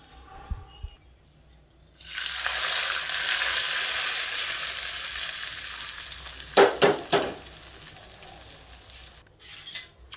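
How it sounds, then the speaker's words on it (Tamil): Fenugreek powder is added and stirred into soaked lemons for a Tamil lemon pickle. A loud, sustained hiss lasts a few seconds, followed by a handful of sharp clanks and scrapes from stirring. "அந்த எலுமிச்சம்பழத்தில் ஊற்றி நல்லா கிளறிடலாம்."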